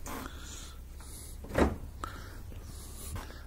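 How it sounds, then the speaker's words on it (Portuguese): Door locks on a Ford Fusion with a Duratec engine engage automatically, a single muffled clunk standing out midway against a steady low background hum, with a faint second click shortly after. "O bicho tranca as portas"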